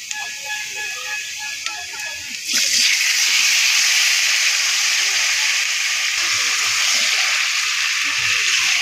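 Meat dropped into hot oil in a home kitchen pan erupts into a loud, steady sizzle and hiss that starts suddenly partway through and continues close up, with faint voices underneath.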